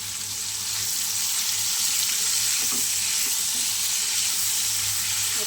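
Kohlrabi seasoned with turmeric, coriander leaves and salt fries lightly in a pan, giving a steady, loud, close hiss of sizzling oil with no speech.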